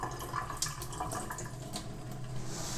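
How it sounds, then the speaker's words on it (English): Room-temperature tap water streams steadily through a potted orchid beside a sink, a continuous trickling and splashing that stays fairly quiet with no talking. "And so I'm just letting the water go through."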